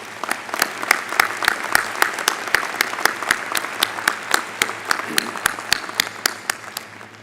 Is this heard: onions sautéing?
no